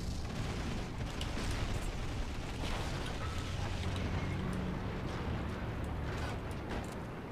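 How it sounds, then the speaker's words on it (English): Squad battle noise as a Chaffee tank is destroyed, with a dense, rumbling wash of explosions and mechanical clatter that holds steady at a moderate level throughout, with no talk. "Chaffee is now destroyed."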